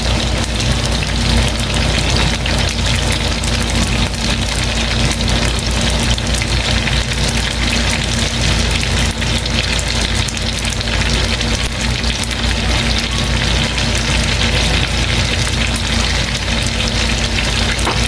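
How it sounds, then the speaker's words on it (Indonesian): Food fries in a pan with a loud, dense, continuous sizzle that stays steady and close from start to finish, with no talking over it. "Oke teman-teman, saya siapkan pannya ya, langsung digoreng."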